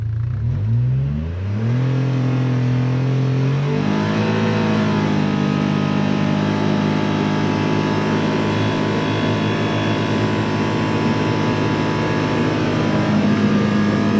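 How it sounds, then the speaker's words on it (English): A Polaris Ranger XD 1500 three-cylinder engine fitted with an EVP exhaust revs up to wide open throttle and holds a loud, continuous, droning growl that climbs in pitch early on, with no one talking. "Once again, wide open throttle."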